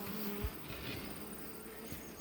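Honey bees buzz steadily around a swarm hive in Northern Ontario in August, a dense continuous insect drone close by with no voices.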